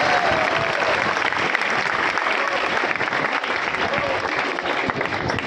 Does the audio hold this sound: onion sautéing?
no